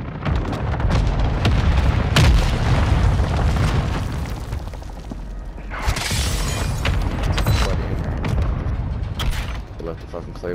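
Airstrike explosions in Warzone 2.0, heavy booming blasts and crashing debris over a rumbling battle, with in-game voices speaking over it.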